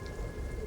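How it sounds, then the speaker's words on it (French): Heavy rain pours steadily with a deep rumbling thunderstorm underneath, a dense, continuous wash of noise with no voices, during a windy storm on a coast. "C'est la pluie qui tombe à torrent."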